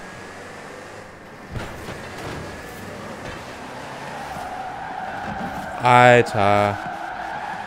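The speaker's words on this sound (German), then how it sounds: "Der driftet in den LKW quer um die Kurven." Truck drifting sideways through corners in the racing game Forza Horizon 4, a garbage truck driven by another player, with a steady engine and tire hiss and two short loud squeals near the end, under a voice.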